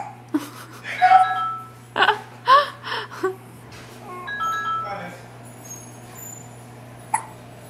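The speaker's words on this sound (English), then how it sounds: "You got the hiccups again." A three-week-old baby girl hiccups several times in short, sharp bursts, close and fairly quiet, with a soft whimpering breath between them in a quiet room.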